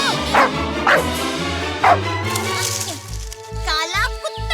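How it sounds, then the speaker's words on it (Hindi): A black dog in a Chhota Bheem cartoon barks in a few sharp yips, then whimpers over a bed of cartoon music, loud and close. "काला कुत्ता"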